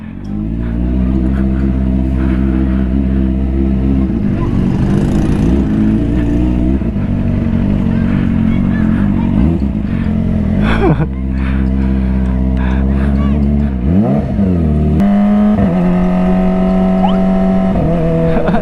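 A Kawasaki ZX25R motorcycle engine revs hard and close, its high-pitched wail climbing and dropping through repeated throttle blips and rising sweeps, with brief voices mixed in.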